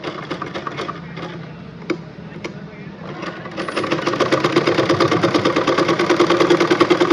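A sewing machine stitches a half collar, starting with a quieter stretch and then settling into a loud, steady, fast rhythmic whirring for the second half.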